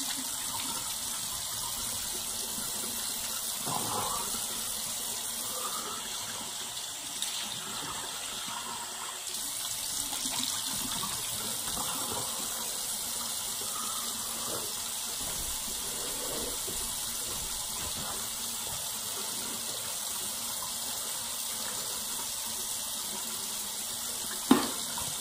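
Running tap water pours steadily and close for the whole stretch while a clay mask is washed and scrubbed off a face, with faint splashes and hand movements in the stream.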